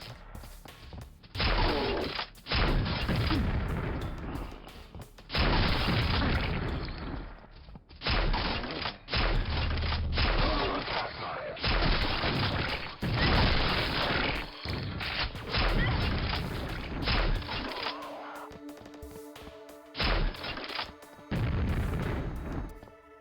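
An unfamiliar gun firing in the video game Quake Brutalist Jam 3, with repeated loud bursts of shots in long volleys separated by short gaps, prominent and close throughout.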